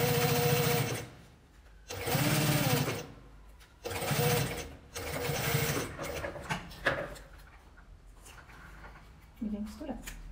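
A sewing machine runs in a few short bursts close by, stitching fabric near a ribbon with a backstitch, the motor's whir stopping and restarting between quieter handling noises, with a voice speaking in between.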